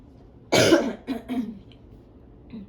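A single loud, close cough bursts out, followed by two smaller coughs and a faint throat sound as it trails off.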